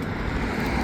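A car drives along a road on the Isle of Skye, giving a loud, steady broadband rumble of tyres and engine with no voices.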